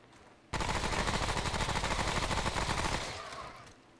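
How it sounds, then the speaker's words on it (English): An automatic weapon in Remnant: From The Ashes unloads a long, unbroken stream of rapid shots for about two and a half seconds, loud and close, then cuts off into a fading tail. "That was a lot of ammo that I just used up."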